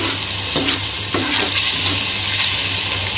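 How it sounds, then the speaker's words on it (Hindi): Masala with green chillies fries in oil in a pan while keema and green beans are cooked, giving a steady loud sizzle with a few stirring scrapes, close and without talk. "ये काफ़ी भुन चुका है, तेल भी इसने छोड़ दिया मसाले ने।"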